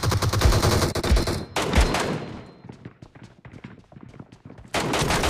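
Gunfire in Battlegrounds Mobile India team deathmatch: loud, sustained automatic bursts open the scene, then a lull of scattered, sharper cracks before another dense volley, with no voices.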